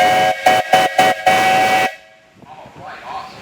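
A steam traction engine at a tractor show sounds its whistle in a run of loud, short blasts, then holds one longer shrill tone before it cuts off, leaving soft hissing and faint background noise.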